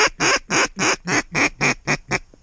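Mallard ducks quacking, seen high overhead during a waterfowl hunt, giving a loud, close series of about nine evenly spaced quacks that taper off at the end.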